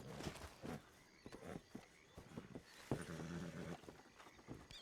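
Soft, irregular hoof clops from a horse moving at a walk in a Red Dead roleplay game, with game-like ambient sounds and a brief low thud midway.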